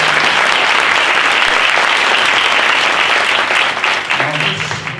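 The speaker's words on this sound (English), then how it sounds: "a warm round of applause." Conference audience in Johannesburg giving a warm round of applause to the speakers, a loud sustained roar of clapping that tapers off as a voice starts talking at the end.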